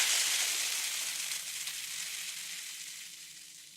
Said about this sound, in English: that's a really easy way to get like an electrical sound if you don't have something that sounds electrical